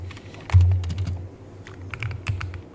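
Fingers tap a budget mechanical computer keyboard in bursts of quick, close keystrokes, with a few louder clacks and brief pauses between runs.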